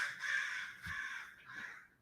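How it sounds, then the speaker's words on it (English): Crows caw outdoors, a few harsh, raspy calls in quick succession, moderately distant and faint, with no voices. "Hear the birds in the background"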